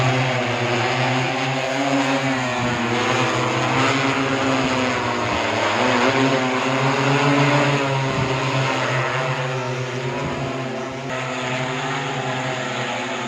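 An agricultural spraying drone carrying water and pesticide flies over a farm field, giving a loud, steady rotor whine with a continuous propeller hum that holds for the whole stretch, with no voices.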